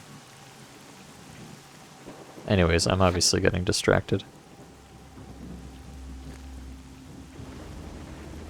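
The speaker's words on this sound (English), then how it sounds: "I can hear the rain noise indoor, which is not correct." Steady rain hiss heard from indoors in the video game Call of Pripyat, a faint continuous patter under a man's brief spoken remark in the middle.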